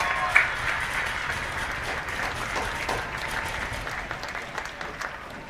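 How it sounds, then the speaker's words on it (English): An audience at the Jackson High School Band Festival applauds the school bands, a steady wash of many hands clapping heard from within a large crowd, sustained and even throughout. "Let's give every single one of these bands a big, huge round of applause."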